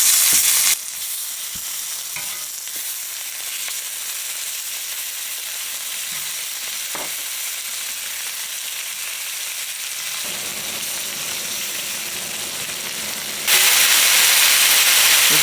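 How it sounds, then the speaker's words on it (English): Turkey necks searing in hot oil in a pan, a loud continuous sizzle that runs steadily throughout, with a few knocks of the pieces shifting and the hiss swelling near the end, with no voices. "Then we're just going to sear it on all sides."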